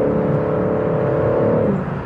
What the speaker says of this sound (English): The engine sounds great on the inside.